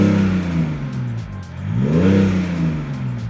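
A 2024 BMW X6 engine revs up, eases off, then revs again in a second swell, heard from close by with no talking.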